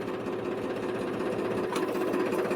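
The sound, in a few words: tractor engine being started with self-starter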